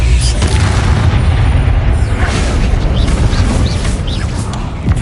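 Bombarda explosion spell in the Hogwarts Legacy video game, a loud, heavy booming blast that rumbles on continuously through the clip with faint crackling debris above it.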